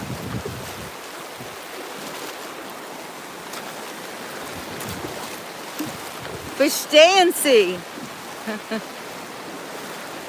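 Ocean waves at a Gulf beach wash steadily under wind buffeting the microphone, with someone talking close by over the surf.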